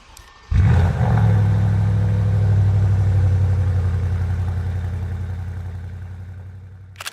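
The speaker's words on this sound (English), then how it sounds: "And now it's time for the beast underneath. A V8 engine." A brand-new luxury everyday car's V8 engine starts with a sharp catch and settles into a loud, steady deep rumble that slowly eases, heard up close with no talking.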